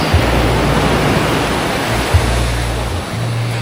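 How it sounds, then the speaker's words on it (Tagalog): Strong ocean waves break at Bagasbas Beach, a loud, dense, continuous surf roar close by with gusty wind rumble and no talking. "Lakas ng alon."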